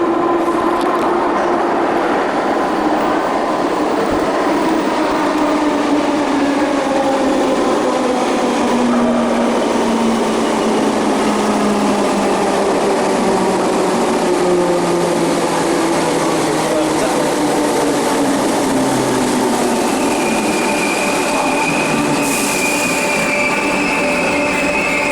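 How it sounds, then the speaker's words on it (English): An old Merseyrail electric train pulls into a Liverpool-area station, its rolling rumble and rising wheel squeal building steadily over about twenty-five seconds, with rail clatter and a brief brake hiss near the end. "We've got one of the old trains coming in."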